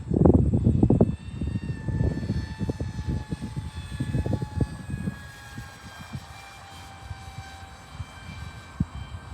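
Avro Vulcan B.2 model aircraft flying past, a loud rushing engine hum with a tone that slowly glides downward as the model moves away, with wind buffeting the microphone.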